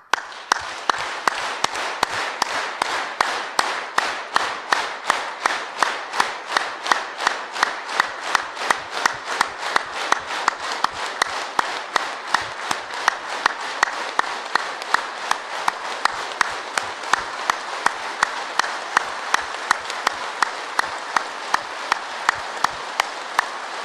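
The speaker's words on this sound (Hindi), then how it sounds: "बजाइए ताली" Yoga session group clapping hands in a fast, steady rhythm, dozens of sharp, even claps in unison continuing for a long stretch, loud and close with a crowd texture.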